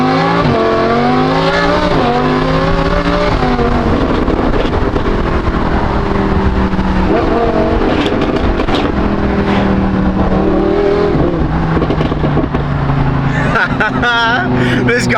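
A Lamborghini fitted with an F1-style exhaust accelerates hard, its engine screaming loudly up through rising revs with repeated pitch sweeps and gear changes, close and dominant throughout.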